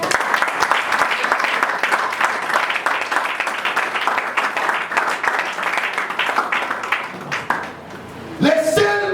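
Church congregation applauding in praise, loud sustained clapping filling the room, with a voice rising at the end as the applause fades.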